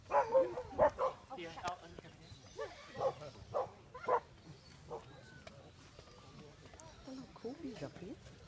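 A very old border collie barks in a series of short, fairly close woofs, clustered at first and then sparser, while people talk quietly in the background.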